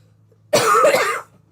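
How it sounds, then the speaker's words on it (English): One harsh, drawn-out cough, close and loud, lasting under a second against a low background hum. "coughing again"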